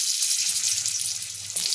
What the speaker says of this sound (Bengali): আলুটা একটু আমি হালকা ভেজে নেব